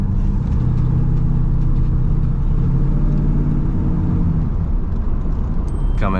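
A Mako-body Corvette, the last year of that body style, drives and corners with a loud, steady engine rumble and mild revving close by throughout.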